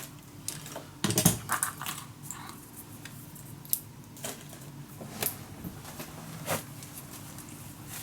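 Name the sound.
cutting paper with scissors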